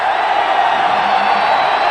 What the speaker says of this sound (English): Oklahoma home crowd trying to get into it